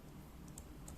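Keys clicking on a computer keyboard while a web address is entered, a few soft taps over a steady low background hum.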